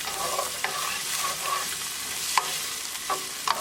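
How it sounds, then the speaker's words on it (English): Onion and garlic frying in a pan for lamb meatball pasta, with a steady broadband sizzle and scattered scrapes and clicks from a utensil stirring, loudest in a few sharp knocks near the end. "Now add onion. Keep mixing and keep cooking."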